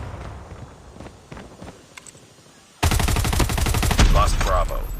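Rapid automatic gunfire from a multiplayer shooter match with capture points, sentry guns and UAVs: quieter scattered shots and footsteps at first, then a sudden loud, dense stretch of sustained bursts that continues to the end.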